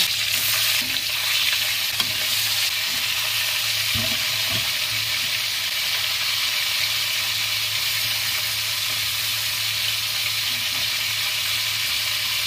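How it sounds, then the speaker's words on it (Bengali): Shal ting fish fry in hot oil, a loud, unbroken close-up sizzle with faint stirring sounds and no one talking. "দেখুন বন্ধুরা তেলটা গরম হয়ে গেছে। এবার শালটিং মাছগুলো ছেড়ে দেবো।"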